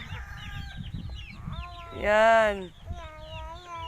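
Several chickens cluck and call nearby in a farmyard, with one loud, drawn-out harmonic squawk in the middle and softer clucks around it, while a person speaks briefly.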